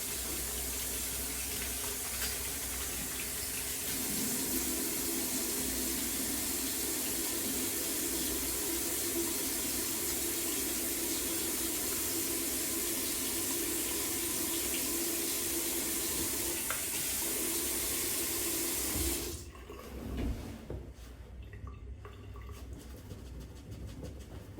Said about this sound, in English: I'm going to wash my comb with soap and water.